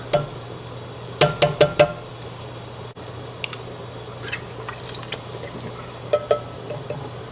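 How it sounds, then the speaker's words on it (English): Coconut milk is poured into a cooking pot for stew peas, with a few close glugs and splashes and a soft liquid squish over a quiet kitchen hum. "Here goes our milk."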